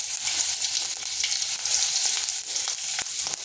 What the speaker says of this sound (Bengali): ওই তেলের মধ্যে দিয়ে দিচ্ছি 5 ফোড়ন, একটা শুকনো লঙ্কা আর দিচ্ছি তেজপাতা